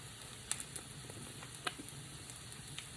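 Egg frying in a pan for fried rice, a steady soft sizzle with scattered small pops and crackles, heard alone without talk.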